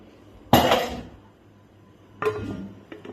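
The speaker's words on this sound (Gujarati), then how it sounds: "ઢાંકણ ઢાંકીને મૂકી દઈએ" A lid set down on a cooking pan, a sharp metallic clink followed by a fading ring, then a second softer clatter a moment later in a quiet kitchen.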